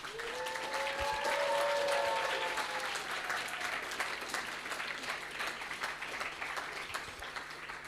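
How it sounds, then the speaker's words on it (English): Sustained applause from a seated audience after team presentations at a bioinformatics and biostatistics hackathon, dense steady clapping throughout with a few whistles early on. "Let's make a round of applause for all of the teams who presented their results."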